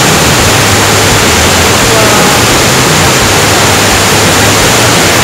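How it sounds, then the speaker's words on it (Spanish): The Nisolha waterfall in Chiapas roars as a steady, loud broadband rush of falling water, constant and close throughout with no breaks. "Estamos en la cascada de Nisolha."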